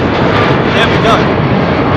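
A DHL Boeing 767 cargo jet rumbles loud and close in a brief, steady engine roar, with a voice speaking over it.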